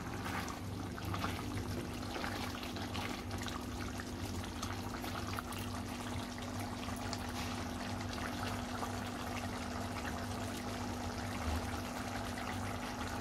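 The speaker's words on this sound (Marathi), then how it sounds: "आता आपल्या भाजीला चांगला उकळी आलेली आहे." A pot of chickpea curry for chole bubbles steadily at a rolling boil, a continuous hiss and burble with a low hum behind it and no voices.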